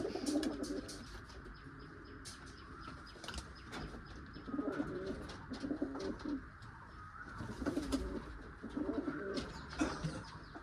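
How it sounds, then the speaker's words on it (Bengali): Malawi Jor pigeons, among them a yellow-eyed, white-beaked male, coo repeatedly in soft rolling phrases, joined by scattered chirps and a few wing flutters. "এটা নর পায়রা, কাঁচা হলুদ চোখ, সাদা ঠোঁটের মধ্যে আছে।"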